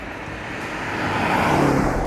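A BMW X5 M Competition driven on the road under hard acceleration, its engine roar swelling steadily louder over about two seconds with road noise underneath.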